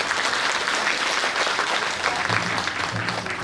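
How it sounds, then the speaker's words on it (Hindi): Loud, dense audience applause at a Women's Day event held by a social organization, sustained clapping from a crowd continuing without a break. "एक बार फिर जोर से तालियां।"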